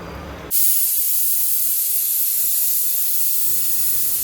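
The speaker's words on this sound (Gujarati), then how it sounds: "ચાર સીટી થવા દેવાની મીડિયમ ગેસે" A pressure cooker on a gas flame cooking khichdi lets out a sudden loud, steady hiss of escaping steam that runs several seconds at even strength.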